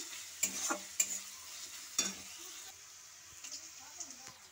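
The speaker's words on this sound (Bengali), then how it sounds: "আর এখানে আমি পেঁয়াজটাকে লাল লাল করে ভেজে নিচ্ছি।" Onions fry in oil for a meat curry, a soft sizzle under a few sharp clinks and scrapes of a spoon stirring the pan, fairly quiet and close.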